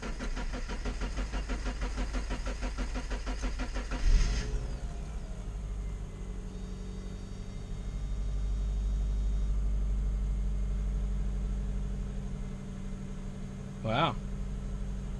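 A Subaru engine, just fitted with new valve cover gaskets, cranks and catches, then idles with a steady low rumble, briefly swelling in the middle, with a short squeal near the end.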